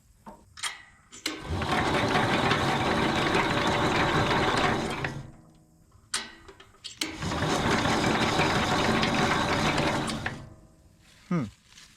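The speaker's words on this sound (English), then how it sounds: "So I'll crank this thing and see if we see any sparks." Engine of a 1968 Jacobsen Super Chief garden tractor being cranked with an ignition fault: two long bursts of loud, rapid mechanical churning from the starter, each about four seconds, separated by clicks and quieter pauses.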